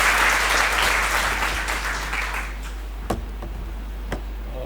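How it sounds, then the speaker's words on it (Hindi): Loud applause from an audience welcoming a speaker at an official motivational event. The clapping is dense and steady at first, then thins out into a few scattered claps near the end. "एक बार जोरदार तालियों से स्वागत कीजिए।"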